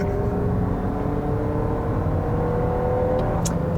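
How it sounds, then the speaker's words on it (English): A Lexus NX hybrid SUV accelerating, heard as a steady, dull, refined engine drone with a faint rising whine and road noise from inside the cabin. "the engine doesn't really make much noise. It's actually kind of a dull sound."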